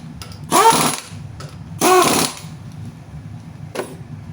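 Power tool zapping wheel parts back on during a rear wheel bearing job on a 2009 Mazda CX-9, two short loud bursts about a second apart, then a fainter brief buzz, over quiet background.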